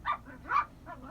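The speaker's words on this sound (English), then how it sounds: "excuse the dogs, they're all wound up here." Several dogs in a home that recently burned down give short excited barks and yips, three quick bursts close by within about a second.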